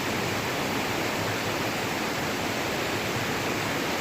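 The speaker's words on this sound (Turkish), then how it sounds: "suyun adeta böyle ürkütücü bir sesi var şu anda burada." Steady, dense roar of rushing water fills the whole stretch without pause, loud and close, a fast stream pouring through rocks in the Sadağı Canyon, Orhaneli, Bursa.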